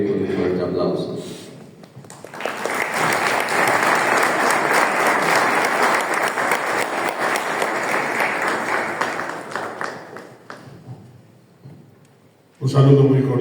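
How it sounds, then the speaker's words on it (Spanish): A lecture-hall audience at an inaugural academic lecture breaks into loud, sustained applause lasting around eight seconds, then fades out. A speaking voice is heard briefly before and after the clapping. "Y les saludamos también con un fuerte aplauso"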